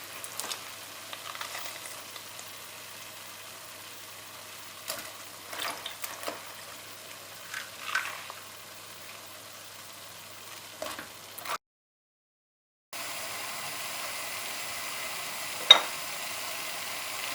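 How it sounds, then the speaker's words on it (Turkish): Salt-drained eggplant being sautéed in a prepared sauce with no water added, a faint, steady sizzle with occasional soft stirring knocks, a short silent gap, then the frying resumes slightly louder. "Şimdi hiç su ilave etmeden birazcık şöyle bir tık kavuracağım."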